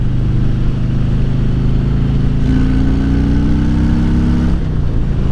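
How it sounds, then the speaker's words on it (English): Motorcycle with a stock exhaust revving, a loud continuous engine drone whose pitch climbs steadily through the throttle and then drops off abruptly near the end. "You get that note from the exhaust"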